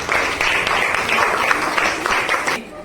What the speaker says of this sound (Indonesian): Beri aplaus kepada kita semua dulu.